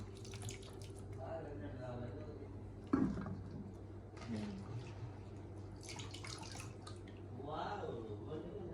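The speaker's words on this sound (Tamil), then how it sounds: "இப்போ நாங்கள் அந்த தண்ணியில் என்ன செய்யணும்னா தண்ணியை வடிகட்டி எடுப்போம்" Water trickles and splashes softly as it drains from sliced breadfruit for chips, with a few light knocks and clatters, under a voice speaking nearby.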